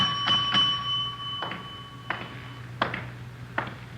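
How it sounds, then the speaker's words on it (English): A hotel front desk bell rings several times in sequence, each a short bright ding with a lingering ring, close over a low background hum. "Nobody at the desk. I'll ring the bell."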